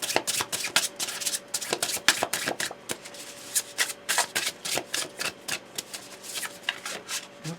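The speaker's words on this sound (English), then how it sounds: "This deck is so fun to shuffle." Rapid riffling and flicking of a card deck being shuffled, close up, in repeated quick bursts with no talking.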